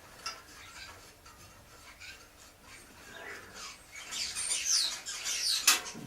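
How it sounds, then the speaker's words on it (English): Birds chirp and squawk outdoors beside a bicycle wheel being worked on, with scattered high calls that grow busier and brighter toward the end. A sharp call stands out near the close. "I don't know what the birds are up to there"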